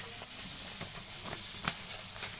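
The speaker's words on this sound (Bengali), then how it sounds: "মাছগুলো কিন্তু ছেড়ে দিয়েছি তেলে ভাজার জন্য" Fish fries in hot oil with a steady, close sizzle and hiss, speckled with small crackles and pops, and nobody speaks.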